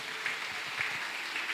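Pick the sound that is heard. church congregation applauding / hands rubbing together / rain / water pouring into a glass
church congregation applauding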